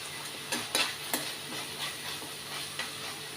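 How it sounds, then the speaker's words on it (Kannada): Ginger garlic paste fries in oil for mutton chops, giving a soft continuous sizzle with a few sharper stirring clinks and scrapes, fairly quiet and close, with no speech. "ಒಂದು ಸ್ಪೂನಷ್ಟು ಜಿಂಜರ್ ಗಾರ್ಲಿಕ್ ಪೇಸ್ಟನ್ನು ಹಾಕಿ ಇದನ್ನು ಕೂಡ ಚೆನ್ನಾಗಿ ಫ್ರೈ ಮಾಡಬೇಕು"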